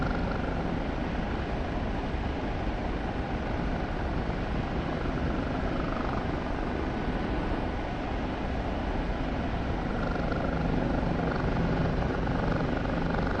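Kiowa helicopter in the DCS flight game flying fast and low, its rotor and turbine a steady, dense roar that holds loud and unbroken throughout.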